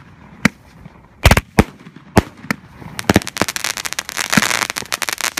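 Firework cake, a 16-shot Webcrawler color and salute item, fires loud sharp salute reports, sparse at first, then a dense run of rapid cracking bangs with crackle, heard outdoors at close range.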